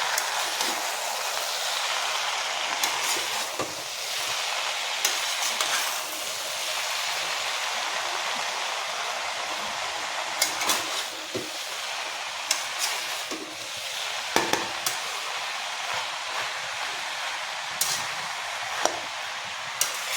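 Gourd (lau) curry stirred in a pan, heard as a steady sizzling hiss with scattered sharp taps and scrapes of the utensil, close and continuous.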